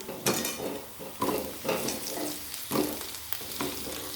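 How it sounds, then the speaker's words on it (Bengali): Potatoes go into a pan of lightly fried onions: a low sizzle runs under four or five sharp, rhythmic stirring scrapes and clatters against the pan. "এবার এই পেঁয়াজের মধ্যে দিয়ে দেবো আলু"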